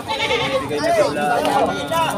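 A goat bleats in wavering, drawn-out cries close by at a goat market, mixed with someone talking over it.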